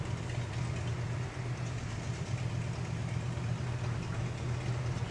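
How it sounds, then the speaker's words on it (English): A motorbike idles outside a window, a steady low engine rumble heard through glass, continuous and moderately loud with no talking. "look out the window and see a biker just getting on his bike"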